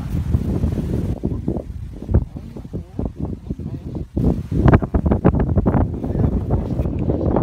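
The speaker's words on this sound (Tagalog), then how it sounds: "Kahit binabayo kami ng malakas na hangin." Strong wind buffets the microphone in a steady low roar, with people talking over it throughout, at sea on a fishing trip during a storm.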